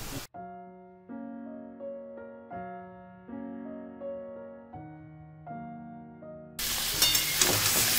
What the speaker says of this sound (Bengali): ম্যারিনেট করা চিকেনটাকে দিয়ে চিকেনটাকে প্রথমে খুব ভালো করে একটু ভেজে নিতে হবে